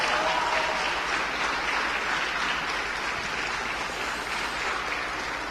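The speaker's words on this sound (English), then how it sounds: "Let's have another round of applause" A steady round of applause from a crowd at an F4 esports racing competition, loud and sustained for several seconds with no talking.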